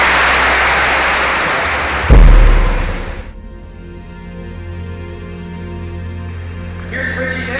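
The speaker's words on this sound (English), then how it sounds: "Please, round of applause." High school assembly audience clapping loudly for about three seconds, then cut off abruptly, with a low musical hum continuing and a brief sound near the end.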